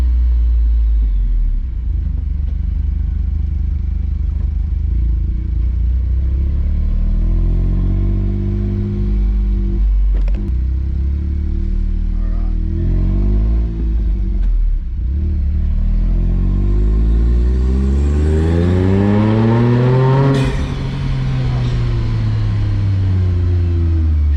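A Honda S660's HKS-turbocharged mid-mounted engine revs up and down repeatedly, a close, loud rumbling drone that climbs in pitch and drops back, with no talking.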